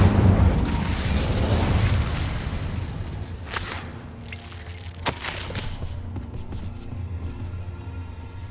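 Incendio fire spell cast in Hogwarts Legacy, a whooshing burst of flame up close followed by a few scattered pops and crackles as the blaze fades to a low rumble.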